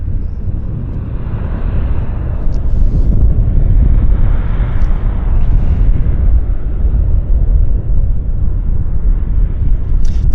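A JAL Boeing 787 Dreamliner arriving at Vancouver airport, a loud, sustained low jet roar and rumble that swells slightly and holds steady over ten seconds, with light wind buffeting and no talking.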